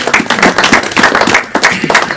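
Applause from an audience at a televised political interview forum, a dense run of clapping that rises and dips across the whole stretch, fairly close and loud with no voices over it.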